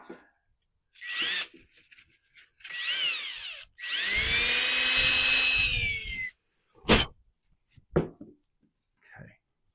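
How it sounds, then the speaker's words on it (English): A power drill whirs in several short bursts drilling through a rivet, one long grinding run in the middle, with brief clicks and pauses between. "Oh, this didn't drill all the way through."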